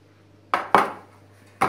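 A baking tray of Turkish finger dessert (parmak tatlısı) clanks as it comes out of the oven, with three sharp metallic knocks close by in a quiet kitchen, the second loudest.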